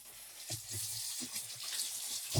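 A bathroom tap runs to wet a razor blade before a shave, a soft steady stream with a few splashing, sloshing bursts as the blade passes under the water.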